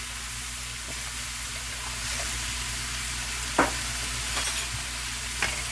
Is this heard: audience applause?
no